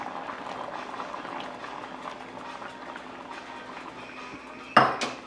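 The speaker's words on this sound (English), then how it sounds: "So now we'll add the chickpeas." Chickpeas are tipped into a simmering pan of chicken curry, giving a quiet bubbling under a low kitchen hum, then a sudden clatter of the pan near the end.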